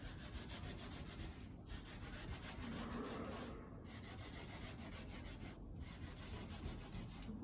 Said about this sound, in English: So you can rub all these extra bits out.